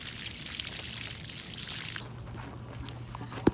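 Water runs steadily over a fossil calcite clam shell after a vinegar soak, a continuous pouring hiss that eases off partway through, ending with a brief knock.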